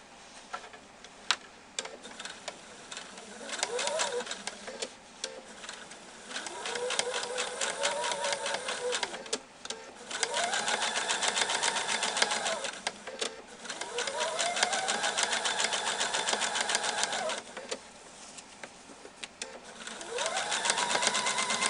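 A sewing machine stitches pillow covers in repeated bursts of steady whirring with a rising and falling motor pitch, separated by short pauses and faint clicks, fairly close and unaccompanied by talk.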